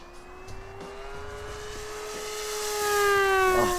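H-King Steadfast Yak-11 single-seat RC model plane, 1450 mm span, making a full-power pass, its high-pitched engine scream rising steadily in pitch and loudness as it approaches and sweeps by.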